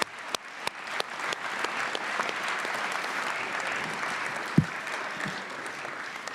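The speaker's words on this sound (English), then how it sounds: "Let's please have another round of applause for all of our varsity student athletes and coaches." Sustained audience applause at a fall varsity student athlete awards ceremony honoring student athletes and coaches, steady dense clapping from a large crowd with a few sharper nearby claps and a brief thump partway through.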